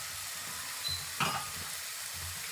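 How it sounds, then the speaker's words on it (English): Steady, continuous sizzling of huevos rancheros frying in a pan, close up, with a brief scraping stir partway through. "Now you can hear this sizzling."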